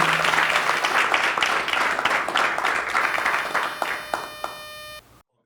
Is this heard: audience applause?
yes